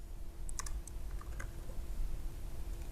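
A handful of soft keystrokes on a computer keyboard as code is typed into a JavaScript console, sparse and faint over a low steady background hum.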